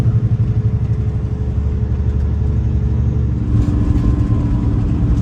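A semi truck cruises in 17th gear near Asheville in Henderson County, North Carolina, its engine giving a steady, loud, close low rumble that holds constant throughout with no talking.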